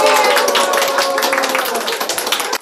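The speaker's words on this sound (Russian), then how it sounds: "Инессу Панченко аплодисментами встречают коллеги." Colleagues at a Samara TV channel applaud as a coworker arrives: dense, sustained clapping from a group close by, steady throughout and cutting off abruptly at the end.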